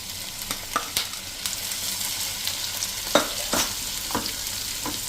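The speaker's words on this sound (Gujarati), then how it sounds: "હવે એમાં આપણે આ જે 4 ટમેટા સમાર્યા છે એને નાખી દઈએ" Four chopped tomatoes frying over a medium flame in a kadai for restaurant-style kadai paneer, a steady close sizzle broken by several sharp scraping stirs of the spoon.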